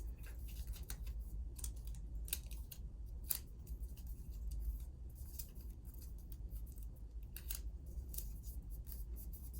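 Scissors snipping paper for a craft dragon, a quick irregular series of close, crisp cuts over a faint room hum.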